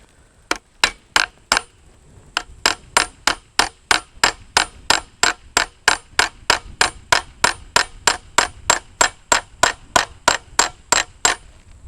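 A modern hammer strikes hard Soviet-era metal while peening a FUX scythe blade, producing a long, steady run of about thirty sharp, ringing metallic blows at a brisk even rhythm, close up with no talking.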